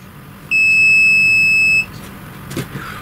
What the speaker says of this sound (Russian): прозвонка, зуммер в этом приборчике срабатывает при сопротивлении в 50 Ом